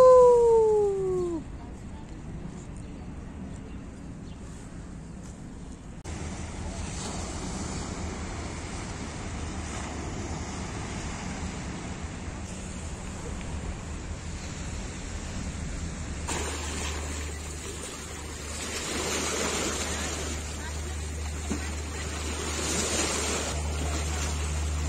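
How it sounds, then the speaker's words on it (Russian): Waves of the Bosphorus in Istanbul wash and surge against the shore in a steady, close roar, with wind buffeting the microphone and a brief whistle-like tone at the start. "Сейчас будет еще волна какая-нибудь."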